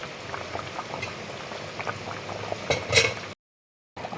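Taro and tangra fish curry bubbling in a covered pot gives a soft, steady simmer with brief louder plops near three seconds before the sound cuts out.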